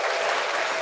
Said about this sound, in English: thank you for the applause, ladies and gentlemen